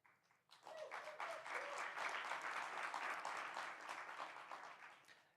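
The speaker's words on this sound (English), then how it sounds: "your applause is greatly welcomed" A conference audience bursts into dense applause at a leaders' stage event on community resilience, a sustained crowd of clapping that starts abruptly and fades toward the end.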